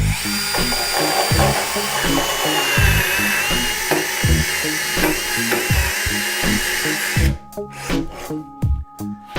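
A handheld power tool cuts into hardwood in choppy, uneven bursts, stalling and binding repeatedly with jerky grinding and rattling, loud and close, the final seconds breaking into sharp stop-start jolts.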